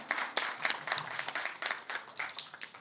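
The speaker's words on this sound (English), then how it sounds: "let's give her a big round of applause once again" Applause at a Miss Universe Meghalaya launch event in Shillong, with a fairly faint, steady round of clapping from a modest crowd and no talking over it.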